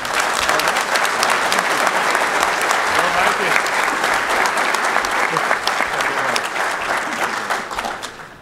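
A large audience at a wastewater association's 2014 opening session gives sustained, dense applause for an award recipient. The clapping stays loud and steady for several seconds, then gradually thins toward the end.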